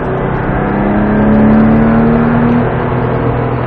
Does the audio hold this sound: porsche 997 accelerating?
yes